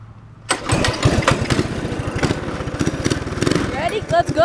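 A minibike engine catches after a moment of quiet and runs loud and close with a rapid, uneven putter, revving briefly near the end while a voice talks over it.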